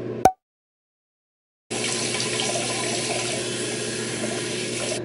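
Water from a tap runs steadily into a sink during face-washing after a brief click, a continuous close hiss that starts suddenly and keeps going to the end.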